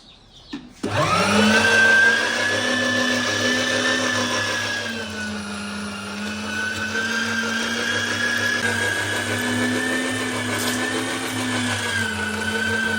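A meat grinder mincing meat together with tomatoes and onions for village-style aloo qeema, a loud steady motor whine that starts abruptly and runs continuously with slight shifts in pitch as the load changes.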